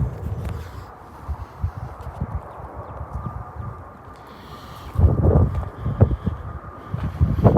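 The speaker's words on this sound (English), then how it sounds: "Man, this wind." Gusty wind buffets the microphone outdoors in a trailer yard, making low, rumbling thumps in uneven bursts that grow stronger toward the end.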